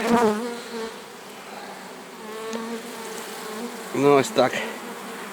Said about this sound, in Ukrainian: Бджола працює.